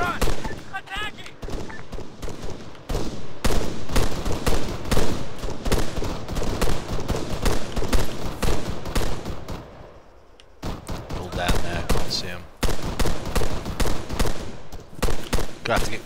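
Sustained infantry gunfire in ArmA 3: dense, loud volleys of rifle and machine-gun shots cracking almost continuously, with a brief lull before the firing resumes.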